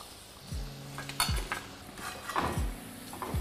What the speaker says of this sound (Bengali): এবার এটাকে আমি তুলে নিচ্ছি একটা প্লেটের মধ্যে।